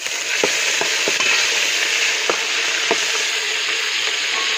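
Curry leaves and slit green chillies fry in hot oil for a village-style tapioca biryani, a loud steady sizzle with scattered sharp pops and crackles, alone with no talk.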